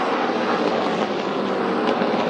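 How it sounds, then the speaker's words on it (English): SRX Series race cars with 700-horsepower Ilmore engines howl at Stafford, a dense, steady roar of several engines sustained throughout without a clear pass-by peak. "Ilmore engines under the hoods of these cars make 700 horsepower or so."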